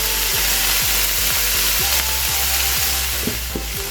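Fish simmering in a pan while making okra pistachio stew gives a steady, close sizzle and bubbling, overlaid with a rapid run of regular low thumps like a motor or blender.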